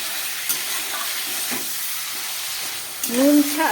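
Chicken pieces lightly salted fry in a pan, giving a continuous loud hiss and sizzle throughout, with a brief scrape near the end.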